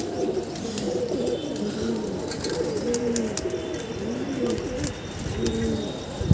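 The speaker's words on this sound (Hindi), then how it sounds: "वो देखिए बांस के ऊपर बैठा है जंगली कबूतर" A wild pigeon perched on bamboo coos over and over in low, rolling phrases, steady and fairly close, over a light outdoor background hiss.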